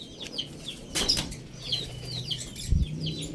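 Racing pigeons in a loft, with a brief burst of wing flapping near the start among soft chirps and rustling, then a low thump later on.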